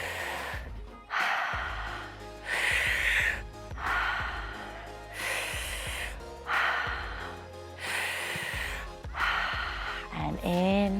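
Slow, deep breaths in and out repeat in a steady rhythm during a guided breathwork session, loud and close, with a brief voiced sound at the end.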